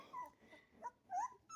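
Rottweiler puppies whimper close by in a few short, high, wavering whines with brief pauses between them.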